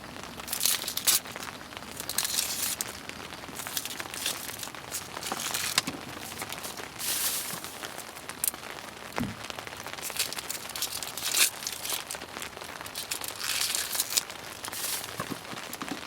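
Dry onion skin being peeled away by hand, giving close crinkling, crackling and papery tearing rustles that come in irregular bursts with no talking.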